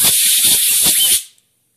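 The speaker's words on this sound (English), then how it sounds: "all we're going to do is take our compressed air" Compressed air blasts dust out of a laptop cooling fan in one loud, steady hiss lasting about a second before cutting off sharply.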